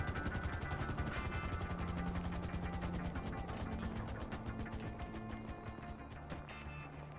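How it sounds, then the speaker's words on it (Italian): Helicopter in GTA V FiveM roleplay, rotor blades thudding in a fast steady chop that fades slowly as the aircraft moves away, heard alone without speech. "Allontana l'elicottero."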